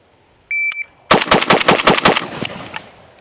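A Zastava M92 rifle fires a rapid string of about eight close, loud shots of GROM ammunition in quick rhythm, preceded by a short electronic beep, with the echoes trailing off.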